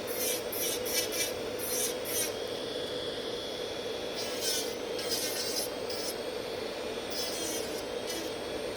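An electric nail file bit buffs underneath gel nails with a constant whirring drone, overlaid by repeated short scratchy rasping bursts in irregular groups, close up and moderately loud.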